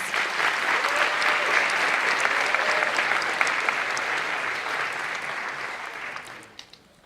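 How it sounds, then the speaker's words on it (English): A large audience applauds participants at a 2019 scholarship awards ceremony, a loud, steady wash of many hands clapping that holds for several seconds and then tapers off near the end. "I would like for everybody to please applaud everybody that was a participant this year"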